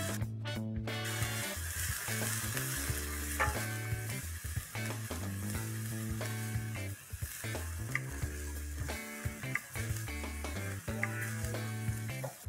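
Onions sizzle and fry steadily in a pan as ginger-garlic paste is stirred in for Indian ragda patties. A loud hiss runs throughout, with intermittent stirring and clinks against the pan and no speech.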